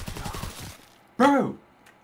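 A single sharp gunshot from a Sten submachine gun in Call of Duty WW2, loud and close, following a stretch of speech.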